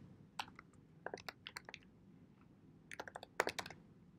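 Quick bursts of keystrokes on a computer keyboard as a business contact's name is entered in accounting software, soft close clicks arriving in short clusters with brief pauses between, no talk.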